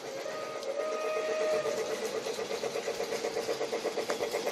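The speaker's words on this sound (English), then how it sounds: "If you bump it up to max, let's see what happens. See, the train just goes." A Lionel Polar Express G-gauge toy train runs at full speed, giving a steady mechanical whir with a fast, regular clicking rhythm that pulses evenly throughout, close and moderately loud.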